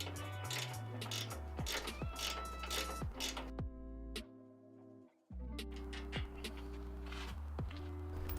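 Ratcheting clicks and metallic mechanism sounds come from undoing bolts on an UltraPlate for a Rigd Hi-Vert Hi-Lift jack mount, with repeated close ticks in bursts, a brief lull, then more ratcheting.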